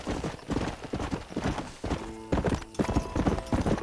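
Horse hooves clip-clop in a steady, brisk rhythm, fairly close, with a brief whinny partway through, in the video game Red Dead Redemption.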